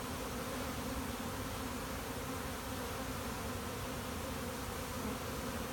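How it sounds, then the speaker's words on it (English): Honeybees hum in a dense, continuous drone around a hive frame being lifted, a steady close buzz with no break and no voices. "A couple bees fell off of it from the festoon."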